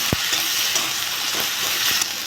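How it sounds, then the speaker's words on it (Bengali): Ginger-garlic paste stir-fried with onion in a hot pan, a steady close sizzle with a few scraping stirs for a fish and potato curry. "আদা রসুন বাটা 1 চামচ দিয়ে দেবো। একটু নেড়ে চেড়ে ভেজে নেব।"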